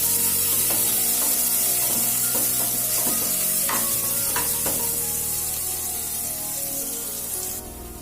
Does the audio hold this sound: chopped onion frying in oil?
yes